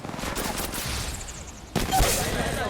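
Gunfire in the Apex Legends Mobile video game, with rapid automatic bursts crackling close and loud, broken by a brief dip before a sharper volley resumes.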